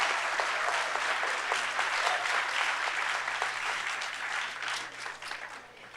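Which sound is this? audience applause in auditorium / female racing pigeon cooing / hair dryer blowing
audience applause in auditorium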